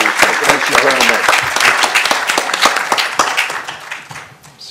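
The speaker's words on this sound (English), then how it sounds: "perhaps we could just give her a round of applause for her contribution" Audience at an international humanitarian law roundtable in Sanremo, Italy, applauding a speaker: dense, loud clapping that starts at once and slowly tapers off near the end.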